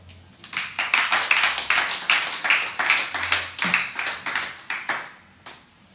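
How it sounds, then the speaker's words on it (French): A church congregation claps together in a steady rhythmic beat. The sound is fairly close and loud, builds quickly and fades out at the end. "Acclamons la parole du Seigneur."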